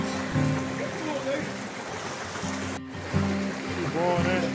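A steady rush of water from a waterfall in the Atlantic Forest of the Serra do Mar roars constantly throughout, while people talk over it nearby.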